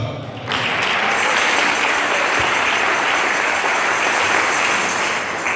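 A church congregation breaks into loud, sustained applause after a prayer, many hands clapping together in a steady roar that fills the room.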